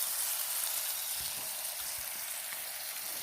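Fish frying in a pan gives a steady, close sizzling hiss with no break, joined by a few faint low taps.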